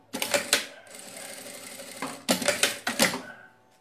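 Sewing machine stitching a folded fabric edge on a cloth bag: quick bursts of rapid mechanical clatter, a short run, a pause with softer whirring, then two more brief rattling bursts, close and clear.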